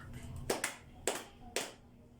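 Students in a classroom teaching demo give a few distinct group claps, four sharp beats spaced about half a second apart, fairly faint and close, with a quiet room between them.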